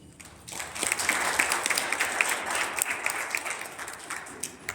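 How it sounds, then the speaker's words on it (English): An audience at a graduation and swearing-in ceremony for new correctional officers gives a round of applause, a fairly quiet, even patter of many hands with scattered sharper claps lasting several seconds. "If you will please give them a round of applause"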